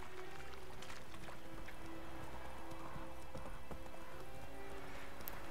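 Roach the horse gallops in The Witcher 3 with steady rhythmic hoofbeats under a faint ambient game backdrop, moderately quiet and continuous throughout.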